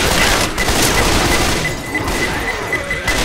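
A loud grenade explosion and chaotic gunfire in the Left 4 Dead 2 video game, a dense booming, crashing wash of shots filling the whole stretch without any talking.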